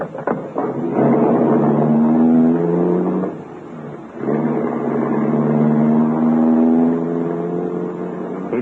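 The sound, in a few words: limousine driving away in a radio drama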